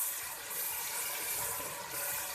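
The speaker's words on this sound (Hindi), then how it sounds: "थोड़ा सा पानी डाल देंगे, अब अच्छे से भून लेंगे इसको।" Water poured into sizzling masala in a pan while cooking arbi (taro root) curry, a steady hissing, bubbly frying sound that continues evenly throughout at moderate level with no talk.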